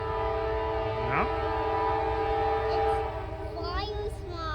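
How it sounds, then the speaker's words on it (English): A diesel locomotive horn sounds amid steady rail noise, heard from some distance with sustained tones and a brief falling blast, during the ferry move of steam locomotive N&W 611 through Buena Vista, Virginia. "Now that's the diesel's horn."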